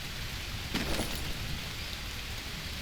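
Rain hisses steadily as a broad, constant wash of noise in the jungle survival game Green Hell, with a brief louder swell near the start, no voices over it.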